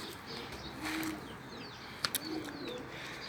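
Domestic flying pigeons cooing softly in a quiet loft, low murmuring coos with a couple of sharp clicks and faint chirps, fairly distant and subdued.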